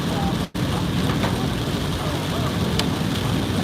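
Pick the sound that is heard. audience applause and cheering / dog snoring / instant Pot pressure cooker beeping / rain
rain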